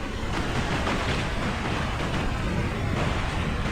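Strong sea waves churn and wash continuously, loud and close, mixed with wind buffeting the microphone while out fishing on a boat.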